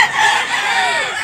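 A rooster crows once, close and loud, its drawn-out call rising and then falling, heard at a poultry yard in Tabunok, Cebu where black Hennie gamecocks are kept.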